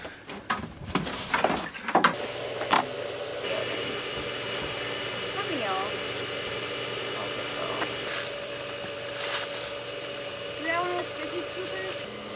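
Steady motor hum of a pump draining a homemade pond, a constant tone running beneath a few louder knocks at the start and faint bird chirps in the background.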